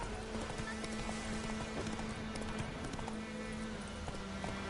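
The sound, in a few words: horse Roach galloping in video game The Witcher 3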